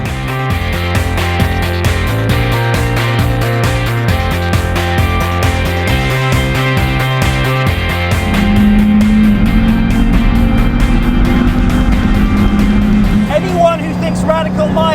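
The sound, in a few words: Radical sports car engine flat shifting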